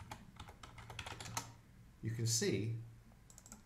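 Rapid keyboard taps clatter in a quick run, followed by a person speaking briefly, with a few more faint clicks at the end.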